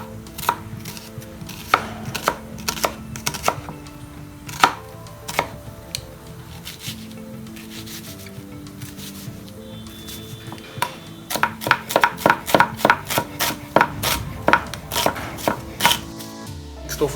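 A knife chops an onion on a cutting board for guacamole, with clusters of sharp, close taps in quick irregular bursts, a lull in the middle, then a fast steady run of strokes near the end.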